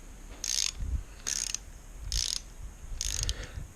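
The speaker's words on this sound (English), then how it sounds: "tighten up the fixing bolt, which is this is a 4mm one on this one, and of course done with a torque wrench" Four evenly spaced bursts of ratcheting clicks from a torque wrench tightening the 4mm fixing bolt that clamps the cable on a Shimano 105 rear derailleur, close and crisp with faint low knocks between.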